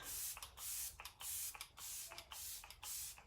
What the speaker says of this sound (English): I'm gonna go in and use our refreshing spray. This is a setting spray